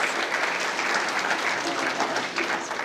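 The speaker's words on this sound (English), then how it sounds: "a round of applause for you" A burst of steady clapping from a group at a school assembly fills the clip, dense and even throughout.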